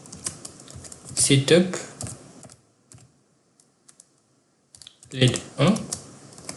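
Computer keyboard typing while programming a Raspberry Pi to switch two LEDs, bursts of quick close keystrokes at the start and end separated by a quiet pause, with someone speaking over the typing.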